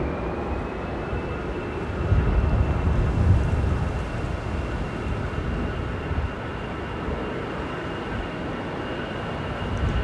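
An Iberia airliner departs Manchester Airport with a broad, continuous jet roar that swells briefly, then holds steady at a distance, with a faint high engine whine on top.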